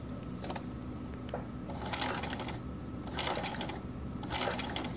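A sewing machine stitches a quilt seam in short bursts of fast mechanical whirring and needle chatter, close by and separated by brief pauses, with no talking.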